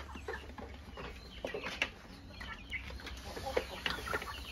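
Peruvian hens and roosters cluck and chatter softly at moderate distance, scattered calls overlapping against a faint steady background hum.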